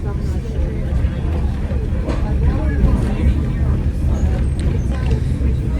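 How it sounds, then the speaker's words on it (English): Rumble and rattle inside an old 1920 train passenger car with poor shock absorbers on a historic Honesdale, Pennsylvania line, a steady loud low roar with scattered bumps and clunks throughout. "we're in an old 1920 passenger car that doesn't have very good shock absorbers, so we're tending to bounce a lot."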